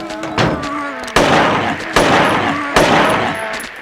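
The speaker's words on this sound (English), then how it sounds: "We're just gonna shoot him." Three loud, close gunshots from Silent Hill 3, spaced just under a second apart, each a sharp crack with a decaying tail.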